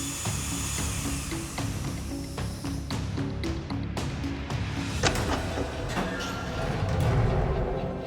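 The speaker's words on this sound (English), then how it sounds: "you would have to drill the vault door." A grinding, whining drill bites into a steel vault door in a heist game, with uneven bursts of scraping and clatter; a voice is faintly present underneath.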